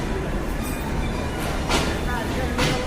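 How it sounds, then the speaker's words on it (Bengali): The Nilsagar Express intercity train departs Parbatipur railway junction toward Dhaka at night, rumbling loudly and steadily nearby with faint rail clatter and voices in the background. "পার্বতীপুর রেলওয়ে জংশন থেকে ঢাকার উদ্দেশ্যে যাত্রা শুরু করলো।"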